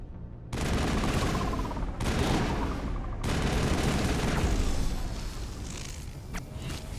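Dense, sustained gunfire from the Mass Effect video game, with loud overlapping bursts and volleys running nearly continuously, broken by a couple of short gaps.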